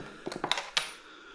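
Spare keys for a 1974 BMW R90 motorcycle clink together in a quick burst of small metallic jingles. The handling is faint and close, with one brighter clink near the end and no voices.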